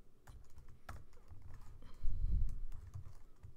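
Someone types on a computer keyboard while coding in Java, a quick run of soft clicky keystrokes close up with a brief louder cluster partway through, alone without talk.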